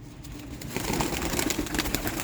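Sialkoti rooftop pigeons coo in a low, soft, repeated pattern. A steady rustle runs underneath, and the cooing grows fuller in the second half.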